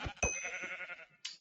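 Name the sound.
sheep bleating in video game Hungry World (Web3 Minecraft)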